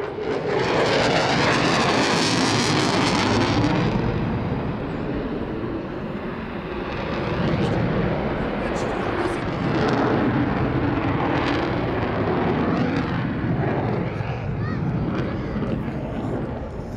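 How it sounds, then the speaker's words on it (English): Jet fighter engine roaring in maximum reheat during a flying display at the Scottish International Air Show, a loud continuous broadband rumble that swells and shifts over about seventeen seconds, with crowd or commentary voices faintly underneath. "So at this altitude, the engine's in max reheat."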